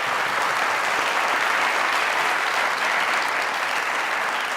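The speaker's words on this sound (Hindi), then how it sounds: "चीमा साहब के लिए यार तालियां।" A studio audience at a comedy talk show applauds steadily, a dense wash of clapping that holds at an even, loud level throughout with no talk over it.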